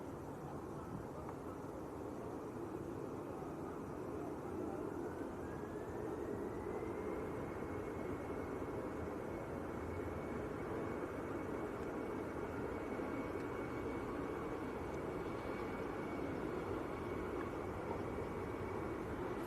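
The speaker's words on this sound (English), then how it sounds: "Finnair on the roll, going out to Helsinki." A Finnair airliner rolls for takeoff at Manchester Airport, a distant, steady jet roar with a rising whine that climbs and then holds, sustained for the whole stretch under broad background hiss.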